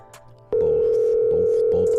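Telephone dial tone starts abruptly after a short moment of quiet and holds as a loud, steady, continuous tone, with faint background sounds beneath it.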